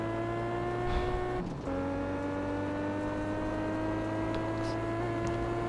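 Traffic car passing by in the video game Test Drive Unlimited 2, a brief whoosh cutting across the steady engine drone of an Aston Martin One-77.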